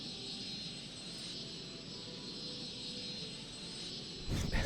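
An EasyJet airliner flies in the city-building game Cities Skylines with a steady, even engine roar and a faint whine, continuous and moderately loud, ending in a short louder swell.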